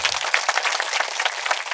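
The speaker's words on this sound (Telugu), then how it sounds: "గట్టిగా చప్పట్లు కొట్టమని మిమ్మల్ని అందరూ కూడా కోరుకుంటున్నాం" Audience clapping at an election campaign rally in Dontali village, a steady wash of many hands applauding at moderate loudness, continuous with no pause and no speech over it.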